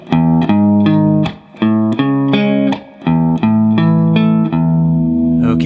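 Distorted electric guitar plays a beginner practice riff of power chords, loud and close, in strummed rhythmic bursts with short gaps between phrases.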